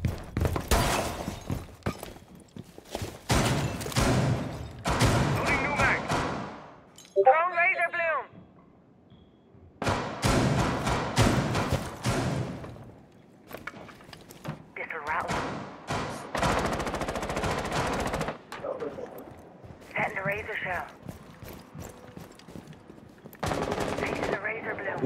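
Video game gunfire in Rainbow Six on the Chalet map, with bursts of rapid automatic shots and glass breaking, loud and close, while players talk over much of it.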